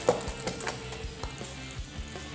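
Mashed potatoes being tossed in a pan, a soft, irregular series of light scraping, stirring and faint sizzling sounds at close range, with no talking.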